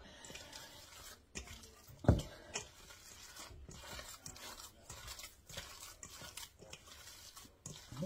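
Ground meat and chopped onion squished and kneaded by hand in a bowl, soft wet squelching and rubbing strokes in an irregular rhythm, close and quiet with one sharper knock partway through.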